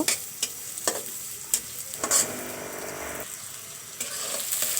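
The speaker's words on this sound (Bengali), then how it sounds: "সরিষার তেল দিয়ে দিলাম। পেঁয়াজ আমি হালকা করে একটু ভেজে নেব।" Onion fries in mustard oil, a continuous close sizzle marked by a run of light, regular taps and scrapes from a stirring utensil.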